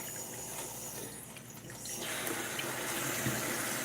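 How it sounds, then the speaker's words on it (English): Running tap water splashes steadily into a sink while dishes are washed, a continuous close hiss and gurgle that gets slightly louder partway through. "Yes, I am washing dishes."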